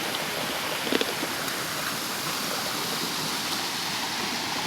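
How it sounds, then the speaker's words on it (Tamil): A mountain stream flows in a steady, broad rush of water that stays loud and close throughout, with a few faint knocks near the start. "தண்ணி கிடைச்சிட்டது."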